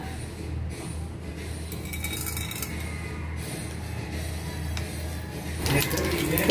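Mustard seeds sputtering and crackling in hot oil on a stove for a Tamil brinjal bajji kuzhambu, a steady dense sizzle that swells louder near the end, with no one speaking.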